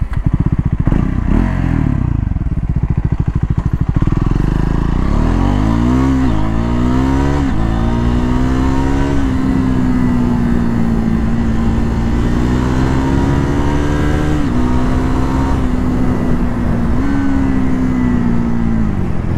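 A Triumph Scrambler 400 X motorcycle ridden on the road, its engine loud and close, revving up through the gears with rising and falling pitch, then holding a steady drone with brief shifts, and no talking.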